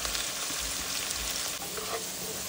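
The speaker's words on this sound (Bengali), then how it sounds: "পেঁয়াজটা যখন একটু লাল লাল ভাজা হয়ে আসবে" Sliced onions sizzle in hot oil for a rui fish curry with greens, a steady close crackling fry that holds throughout with no one speaking.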